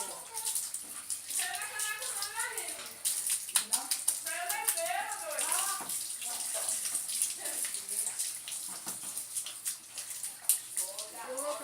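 Tap water runs steadily into a tub while a dog is bathed, with splashing and knocking throughout and voices talking over the flow.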